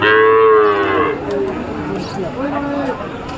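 A red-brown calf moos loudly at a weekly cattle market in Jessore, a long drawn-out call early on, followed by a weaker second low call amid market chatter.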